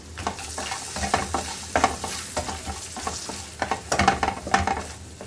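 Copra and chillies stirred and frying in a pan, a steady close sizzle broken by repeated scraping stirs, with no talk.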